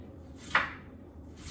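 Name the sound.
knife chopping onions into small pieces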